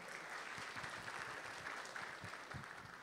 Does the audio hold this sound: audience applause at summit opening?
yes